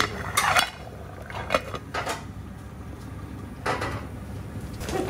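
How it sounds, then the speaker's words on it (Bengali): A metal lid clatters onto a cooking pot of khichuri, a few close, bright clanks and scrapes spread across the moment, with no one speaking. "সো এটাকে আমি এখন লিড দিয়ে ডেকে সিদ্ধ করব।"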